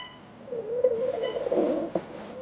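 A faint, wavering stomach growl rises and falls in a low, drawn-out gurgle lasting a couple of seconds, heard close and alone in a quiet setting.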